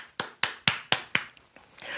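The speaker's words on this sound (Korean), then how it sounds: "우리 하나님께 감사의 박수 올리겠습니다" A congregation at a Friday church prayer meeting claps in thanks, giving about five sharp, evenly spaced claps in unison before a soft murmur of voices rises.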